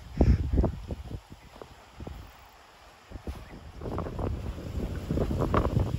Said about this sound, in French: y a un petit peu de vent.